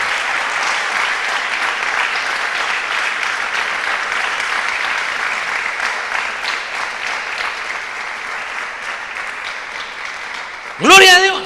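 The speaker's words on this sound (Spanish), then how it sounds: "Dele un aplauso al Rey" A church congregation claps loudly and steadily for a long stretch, the dense applause thinning slightly near the end before a brief sharp burst of other sound cuts in.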